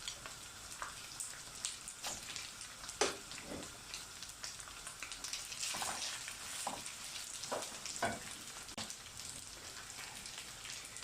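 Rice frying in a pan, a soft continuous sizzle broken by scattered crackles and spatters, close and fairly quiet with no talking.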